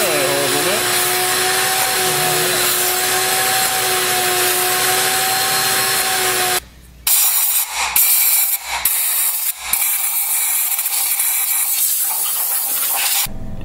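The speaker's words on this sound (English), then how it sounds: "I'm gonna vacuum this up and I'm gonna blow out all these spark plug holes with compressed air" A loud continuous vacuum whine runs for several seconds, then gives way to sharp, repeated hissing bursts of compressed air blowing out the spark plug holes of a Saturn Ion 2.2L engine.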